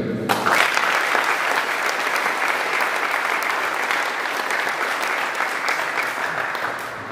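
An audience at the PSA Budapest Open final claps warmly for volunteers and referees, a dense sustained round of applause that holds steady and tapers slightly at the close.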